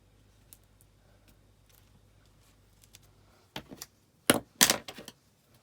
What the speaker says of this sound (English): My scissors have got a bit sticky.